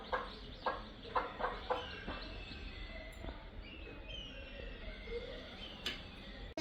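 A desi mother hen clucking near her chicks, a run of rhythmic clucks at first followed by quieter scattered calls and faint chirps in a calm rural setting.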